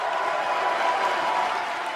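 A crowd at a wrestling event in Dallas, Texas gives steady applause and cheering, a dense continuous wash of clapping that fills the hall at even loudness throughout.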